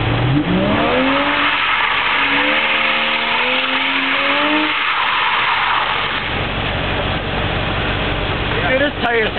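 Lexus IS300 cars drifting, with a revving engine rising and falling in pitch and a steady wash of tire squeal and road noise, loud and continuous, while people talk over it.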